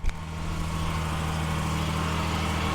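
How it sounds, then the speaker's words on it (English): A Nissan GQ Patrol engine idles steadily after a radiator replacement, a low constant drone with a smooth even hum from close by and no talking. "Sorry about the noise of the car."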